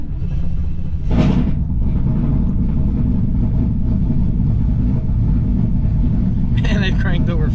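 A Camaro Z28 V8 cranks briefly and fires up, then settles into a loud, steady rumbling idle that fills the whole stretch, with a short rev near the end.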